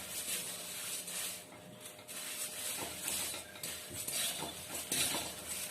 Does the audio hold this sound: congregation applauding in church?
no